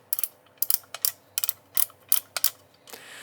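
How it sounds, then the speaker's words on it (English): Quick bursts of small mechanical ratcheting clicks from a toy camera's film advance knob, repeated in short clusters about every half second, close and crisp. "the film advance knob actually has a ratchet and click stop mechanism in it"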